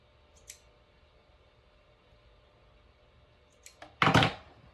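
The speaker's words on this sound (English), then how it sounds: "I'm just going to go ahead and cut this tail off." A thread tail is snipped off a children's sleep set top, a single crisp scissor cut close and clear near the end, preceded by a few faint ticks in a quiet room.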